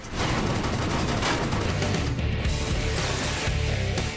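Gunfire from the twin-stick top-down shooter Gatling Gears, with steampunk mech walkers, a dense continuous barrage of rapid shots and blasts filling the whole stretch, loud and unbroken, with no voice.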